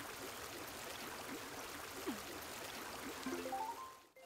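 Fountain in the Animal Crossing video game, a steady soft splashing, trickling water wash, with a few faint chirping game sounds near the end before it fades out.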